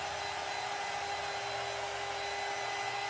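A hair dryer blows steadily and close up, a constant loud whooshing hum with a fixed motor whine, used to dry decoupage on a vanity being made over.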